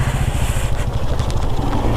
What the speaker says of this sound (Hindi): मैं देख रहा हूँ कुछ कुछ बाइकर्स जा रहे हैं